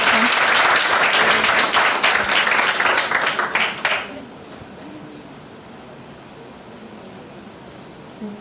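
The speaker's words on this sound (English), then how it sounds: "Might we give a final round of applause" An audience at a high school debating competition gives a loud round of applause for about four seconds, then it fades quickly into quiet room tone with faint murmurs.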